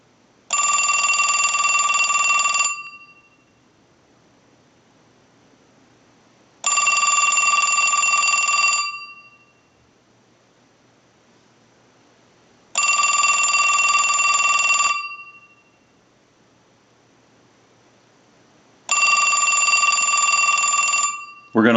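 A Western Electric Trimline telephone's electronic bell rings in four long, steady bursts of about two seconds each, evenly spaced by silent pauses, loud and close.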